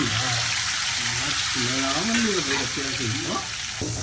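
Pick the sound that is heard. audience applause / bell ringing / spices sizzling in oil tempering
spices sizzling in oil tempering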